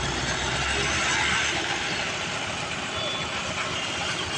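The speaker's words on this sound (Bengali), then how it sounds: "এ হচ্ছে আমাদের ডিস্ট্রিবিউটর মেশিন" A prime coat distributor machine working on a road surface, giving a steady loud mechanical engine drone with whirring and rattling, continuous and close.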